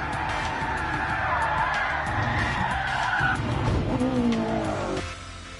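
Tires skid and squeal as a car drifts through a VR driving game, a loud continuous screech over engine roar that bends in pitch before the car settles and the sound eases at the end.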